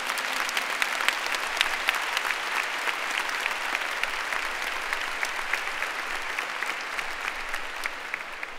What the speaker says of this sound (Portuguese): Pode aplaudir então.